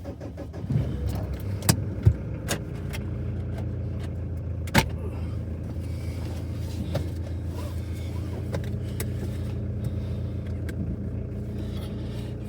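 A Mitsubishi L400 automatic van named Delilah, fitted with new bearings and track rod ends, drives along with a steady engine and road rumble inside the cab, punctuated by a few sharp knocks and jangles as it rolls.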